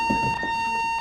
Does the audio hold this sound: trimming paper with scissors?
no